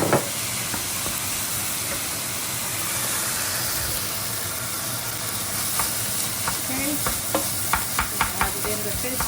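Bacon fried rice sizzles and hisses steadily in a hot pan with bacon fat as fish sauce is stirred in, with sharp scraping stirs of the utensil growing more frequent toward the end, close and loud.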